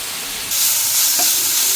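Pea greens and ginger hit hot oil in a pan, setting off a sudden loud, hissing sizzle that carries on steadily close by, with no talking.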